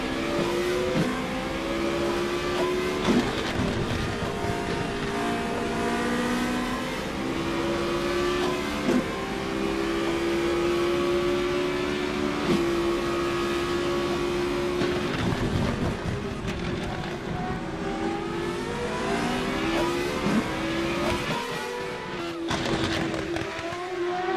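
Formula Renault single-seater race cars lapping at Donington, engines droning loud and continuous with pitch sweeping as they accelerate and shift, several cars close together in sustained racing noise throughout.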